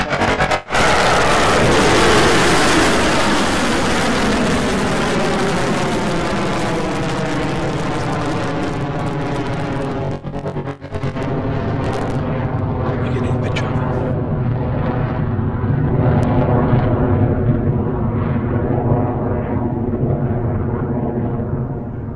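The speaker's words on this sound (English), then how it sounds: "Off the pad for our 8th Electron launch." Rocket Lab Electron rocket lifting off the pad on its eighth launch, a loud continuous roaring rumble that sustains throughout, with a broadcast voice speaking over it.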